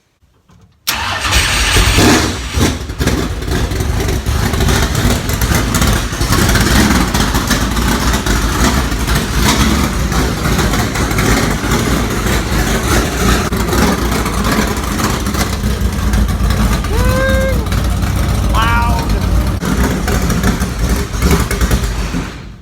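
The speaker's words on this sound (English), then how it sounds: "Cold start, you know what I mean?" Race car engine cold-starting with a sudden loud catch, then running at a rough, loud, steady idle up close for the rest, with brief higher squeaks late on and no talking.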